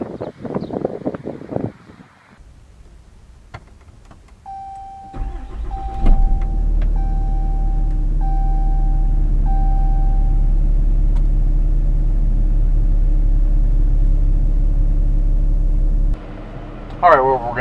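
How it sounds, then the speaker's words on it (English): A 2013 Ram 3500 Laramie Longhorn dual-rear-wheel heavy-duty truck: after brief talk and clatter, a string of cabin chimes sounds, then a deep, steady engine rumble holds for about ten seconds before fading. "Today we're going to take a quick test drive video in this 2013 Ram 3500 Laramie Longhorn."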